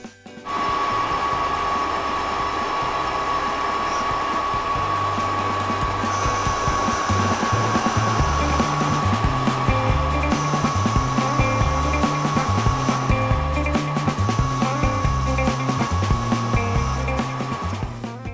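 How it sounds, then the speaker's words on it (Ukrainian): A lathe bores out a steering head bearing cup for a Honda Steed 400 motorcycle to 35 mm, giving a steady, close mechanical whir with a rhythmic low pulsing throughout and no voices. "Будемо розтачувати до діаметра 35 мм."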